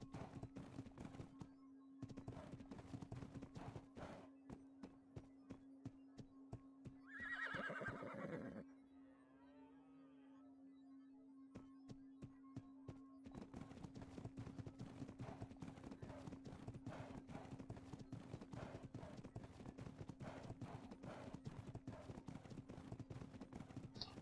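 Rhythmic clip-clop of a horse's hooves while riding in the Western roleplay game GunsmokeRP, steady and close, broken by a loud neigh and a short quiet pause, then the hoofbeats resume over a low steady hum.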